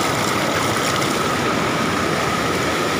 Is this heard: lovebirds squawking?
no